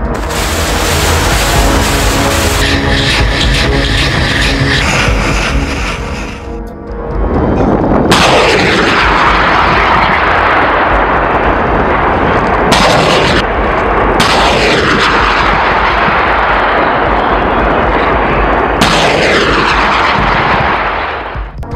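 British M777 howitzers firing, several heavy booming blasts a few seconds apart, each trailing off in a long rolling echo, loud and outdoors with no voices.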